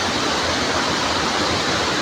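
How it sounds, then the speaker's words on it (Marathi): A Sawatkada waterfall in the Konkan hidden paradise pours in a steady, dense roar that stays loud and even throughout, with no voices. "बघा तिकडे धबधबा आपला वाट बघतो आहे मस्तपैकी."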